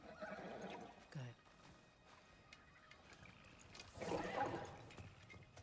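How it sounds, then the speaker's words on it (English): A kelpie horse in God of War Ragnarok whinnies, with a short snort early on and a louder, fuller neigh near the end over quiet ambience. "Is that a mystical horse?"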